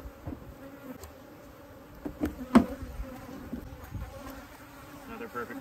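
Wild Texas bees buzz around an open hive during honey extraction, with faint swarming hum and individual bees passing close to the microphone in louder swells.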